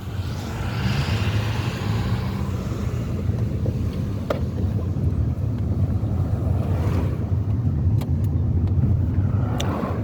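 Car driving on a road in Jamaica at midday, steady engine and road rumble with wind buffeting the microphone, a continuous loud drone with occasional small knocks and no talk.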